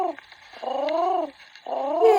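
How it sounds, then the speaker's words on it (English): A pigeon coos in two long, throaty, wavering phrases separated by a short pause, close and clear with no other voices. "This is a pigeon."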